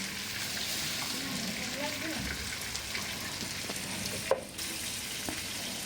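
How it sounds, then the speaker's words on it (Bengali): A few onions fry in oil for a roast dish, giving a steady, moderately loud sizzling hiss throughout with a single sharp clink of a utensil near the end. "এরপরে আমি ওই তেলেই সামান্য পেঁয়াজ ভেজে নেব।"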